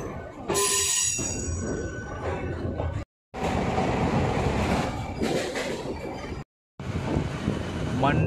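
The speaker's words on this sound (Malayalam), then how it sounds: "ഇതെല്ലായിടത്തും നിർത്തുന്നുണ്ട്, പാസഞ്ചർ ആണല്ലോ, അതുകൊണ്ട് എല്ലായിടത്തും നിർത്തിയാണ് പോകുന്നത്" A stopping passenger train on the Kollam to Kasaragod route rumbles along, a loud steady roar with clattering and a brief squeal near the start, broken by two short dropouts, with people talking over it.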